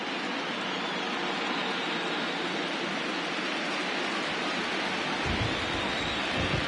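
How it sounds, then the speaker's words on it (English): Heavy rain pours onto an Oakland baseball stadium, a dense, constant hiss that swells slightly louder near the end, with no voices. "the rain starting to intensify here. It's coming down a little heavier now."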